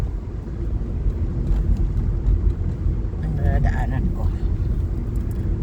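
Road traffic rumbles steadily past a car on a suburban commute through stoplights near a golf course in hot weather, a continuous low engine and tire drone with someone talking over it.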